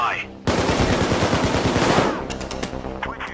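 Rapid automatic gunfire in Payday 2, one dense, loud burst of quick shots lasting about a second and a half, then fading into a few scattered fainter sounds.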